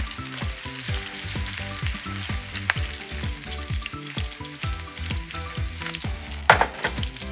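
A vegetable and shrimp stir-fry sizzles steadily in a pan, with rhythmic stirring and scraping strokes over the constant frying hiss and a sharper clatter near the end.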